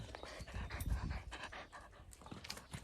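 A dog pants close by in quick, rough, rhythmic breaths that run unbroken for a few seconds, with no talking over it.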